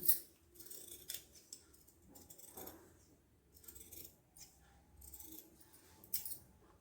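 Scissors snip through blouse fabric in a series of crisp close cuts, with light rustling of the cloth between the quieter pauses.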